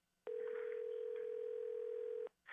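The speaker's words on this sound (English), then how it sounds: "it's the line of John Haggie that is ringing" A steady telephone line tone on a conference call sounds continuously for about two seconds at a fixed pitch, loud and alone, starting and stopping abruptly, followed by a brief faint noise.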